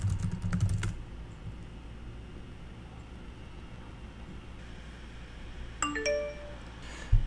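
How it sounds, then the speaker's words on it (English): Quick burst of computer keyboard typing while entering a password on a Mac, a short close clatter of keys at the start, then quiet room tone and a few faint chime-like tones near the end. "Type in your password if needed."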